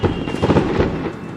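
Dense rumbling bursts of fireworks going off somewhere out of sight around a desert road in China, a continuous crackling, booming wash that stays fairly loud and steady throughout with no voices.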